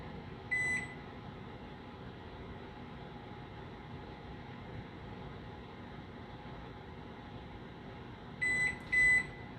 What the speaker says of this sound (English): we're going to add another 20 minutes on the timer